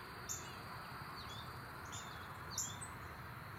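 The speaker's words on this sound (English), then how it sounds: "and a pair of Cape May warblers." A pair of Cape May warblers sing during warbler migration, giving a few very high, thin, short bursts spaced out over a constant outdoor hiss, fairly faint and distant.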